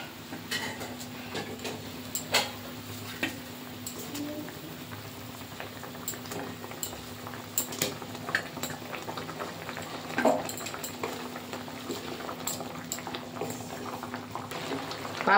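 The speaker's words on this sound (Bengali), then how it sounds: "ঝোলটা ফুটে গেছে, এবার মাছগুলো দিয়ে দেব।" Pabda fish curry gravy bubbles steadily in a pot, a soft continuous simmer of small pops and crackles heard close, with no one speaking.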